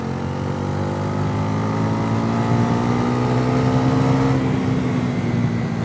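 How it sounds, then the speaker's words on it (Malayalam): A Bajaj Pulsar NS400Z 400 cc motorcycle is ridden slowly, its engine giving a loud, steady, even drone close by. Wind rushes over the engine and no one talks. "ഇപ്പോൾ ഞാൻ വളരെ മെല്ലെ വണ്ടി ഓടിക്കുന്നത്"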